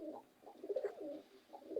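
Pet pigeons coo softly nearby while feeding on the ground, low throaty burbling rolls repeating in short bursts, faint and close.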